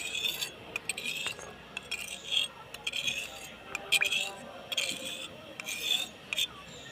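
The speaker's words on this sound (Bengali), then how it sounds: "চারদিকটা নাড়াচাড়া করছি" Hot oil being stirred around inside a handi cooking pot on a mini kitchen setup, with intermittent scraping and rasping strokes and light metallic clinks, close and fairly quiet with faint background voices.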